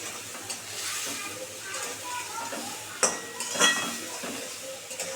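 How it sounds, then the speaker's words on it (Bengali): Spice paste of cumin, coriander and Kashmiri red chili sautéing in oil, a steady soft sizzle with stirring scrapes and a couple of sharp utensil clinks against the pan, close by. "এটা দিয়ে এখন খুব সুন্দর করে কষাবো দু মিনিট ধরে"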